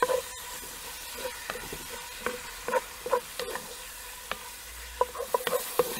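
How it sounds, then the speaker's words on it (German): Minced meat one-pot stew in a Dutch oven, stirred now and then: soft sizzling background broken by scattered scraping clicks of a spoon against the pot, close and unaccompanied by voices. "Ab und an mal umrühren"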